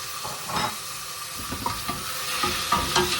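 Seedless, peeled tomato frying in a pan with onion, a steady close sizzle under repeated stirring scrapes of a utensil, no voices.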